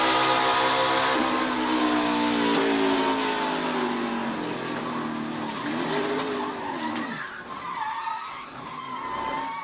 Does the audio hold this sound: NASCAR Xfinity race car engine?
yes